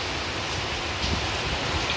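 Heavy rain with very large drops pours down in a dense, steady roar, close by and unbroken, with no voices.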